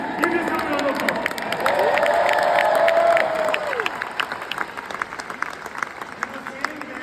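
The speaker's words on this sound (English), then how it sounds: "Give yourself a round of applause." Audience applause and cheering at a large business convention in Las Vegas, dense clapping with raised voices and whoops swelling in the middle, then thinning into scattered claps toward the end.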